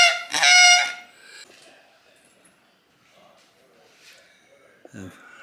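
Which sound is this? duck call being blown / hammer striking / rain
duck call being blown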